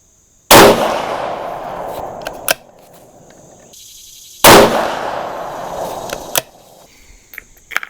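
Two sharp, loud .308 rifle shots fired with handloaded 168-grain Speer Gold Dot bullets over IMR 4064 powder, each cracking and then decaying into a short echo, about four seconds apart, followed by faint handling clicks.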